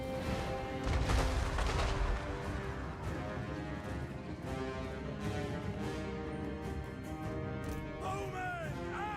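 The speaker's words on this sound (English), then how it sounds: "Blessed field trebuchet! Alright. Release! Start bombarding." Blessed field trebuchets bombarding in Warhammer Total War 3: a dense, loud rumble of impacts and booms layered under a sustained battle din and tonal music, with a heavy burst near the start.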